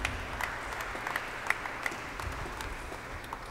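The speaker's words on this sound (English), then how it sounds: "Give him a round of applause." A church congregation applauds during a Thursday morning Lenten Holy Mass, welcoming a priest from Cebu; a soft, fairly distant patter of clapping holds steady for a few seconds with a few sharper claps.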